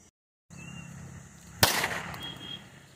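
A single sharp firecracker bang goes off partway through, loud and close, followed by a brief crackling tail over steady outdoor background hiss.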